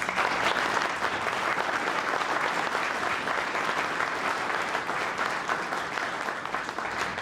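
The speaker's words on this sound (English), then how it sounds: "Can we give our panelists a round of applause?" A panel audience gives a sustained round of applause, dense and steady clapping from a large crowd filling the whole stretch with no talk over it.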